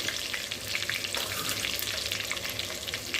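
Cumin seeds frying in hot oil for Chennai-style malli pongal, a steady close crackling sizzle throughout with no voices.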